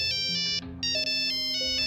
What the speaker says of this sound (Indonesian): tiba-tiba terdengar suara ponsel yang berdering dari dalam bagasi mobilnya